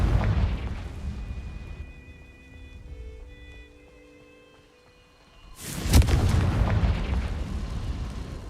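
Confringo fire spell in Hogwarts Legacy: a rumbling blast at the start, a quieter lull with faint tonal game sounds, then a sharp, loud fiery explosion bursting out and roaring on until the end.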